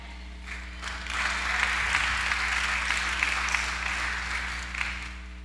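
A church congregation applauds in a large room with sustained, even clapping that swells and holds for several seconds over a steady low hum.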